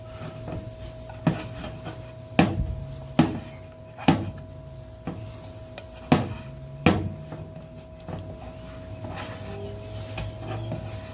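Paint is stirred with hardener in a container before spraying a Cummins-swapped Chevy C30 in a home garage, giving a series of irregular knocks and scrapes, about eight sharp taps spaced a second or so apart over a steady hum.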